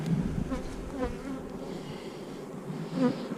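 Honey bees buzzing close around a cracked hive as they bring in pollen, a steady mid-pitched droning hum with individual bees rising and fading as they fly past the microphone.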